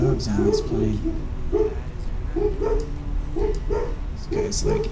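Several dogs bark and yip repeatedly in short bursts aboard an airliner cabin during taxi, a steady rhythm of yaps over constant background hum and occasional talk.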